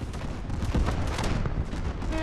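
Explosions and gunfire from the naval combat game From the Depths form a dense, continuous barrage of booms and rapid shots, loud and close, with no speech over them.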